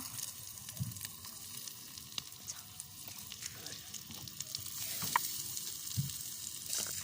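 Onion and garlic fry in oil in a wok right after fish was fried, a soft steady sizzle with scattered small crackles and pops, faint and continuous, with no talking.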